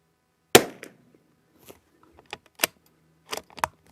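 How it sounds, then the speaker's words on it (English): Shots from a .22LR rifle firing Eley Team ammunition ring out as a sharp crack followed by several fainter, spaced pops and clicks, with quiet gaps between them. "I guess those are warm-up shots, I suppose, but that's why I shoot 20 rounds"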